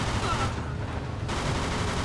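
Gunfire in Mafia 2 during a car chase comes as a rapid burst of shots over engine noise, followed by a brief dip and then a dense, loud stretch.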